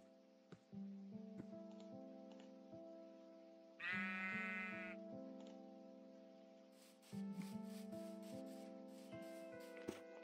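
A sheep bleats once in Minecraft, a short wavering cry over a layered backdrop of game music tones, with a cluster of light clicks and ticks later on.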